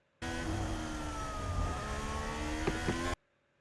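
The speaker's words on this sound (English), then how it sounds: "This is those 5 cars going through turn 14" Five racing cars sweep through turn 14 at Abu Dhabi, a steady close engine roar with whirring drivetrain tones, heard alone for about three seconds before cutting off.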